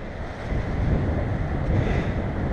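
Strong wind gusting past a moving bicycle in a residential neighborhood, a dense continuous roar buffeting the microphone, loud and unbroken throughout.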